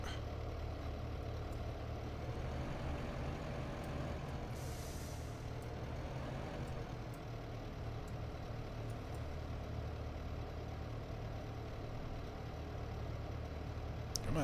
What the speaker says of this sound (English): it would be helpful if I started the JCB